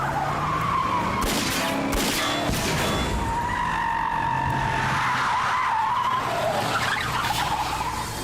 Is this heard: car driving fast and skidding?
yes